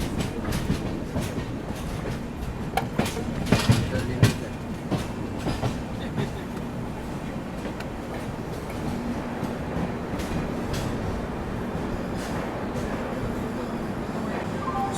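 Deccan Queen Express pulling into Lonavala railway station, a steady rumble of rolling coaches with a few sharp wheel clicks and clanks standing out, continuous and fairly loud throughout with platform ambience.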